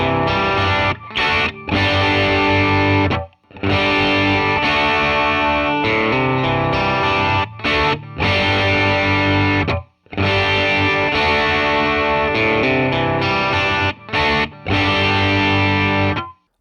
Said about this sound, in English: I'm going to play the same riff with a thick, a medium, and a light pick.